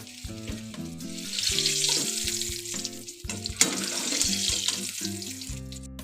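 Eggplant pieces fry in hot oil for a mixed vegetable dish, a steady sizzle throughout with a louder crackling burst midway, heard alone over a bed of background music.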